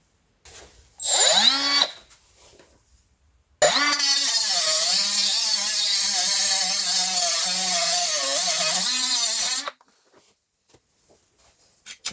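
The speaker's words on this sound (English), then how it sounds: "So let me get my grinder and I'll show you how to deal with this bad boy." An angle grinder cuts into a rusted track rod end on a Renault Trafic van, a short burst followed by a long loud whining grind of about six seconds with wavering pitch, then quiet.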